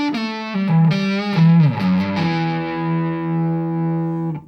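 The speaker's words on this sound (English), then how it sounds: "it's a very round, sort of warm tone, and you can drive it so it becomes a little bit fuzzier type of tone" An electric guitar with a round, warm tone, driven slightly into fuzz, plays a short phrase of sustained bent notes that slide and decay, upfront and alone.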